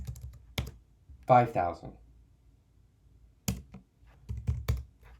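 Keyboard keystrokes entering Cisco router interface configuration commands, arriving as a few short isolated clicks and small bursts spread out, up close, with someone talking in between.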